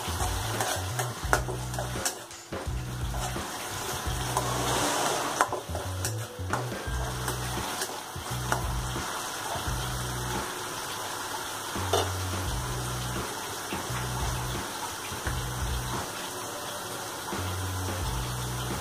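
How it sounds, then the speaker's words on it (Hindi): Onions sauté lightly in a pan for egg masala curry, giving a soft, steady sizzle with repeated metal stirring scrapes at a regular rhythm throughout. "हल्का भून लेंगे इसे।"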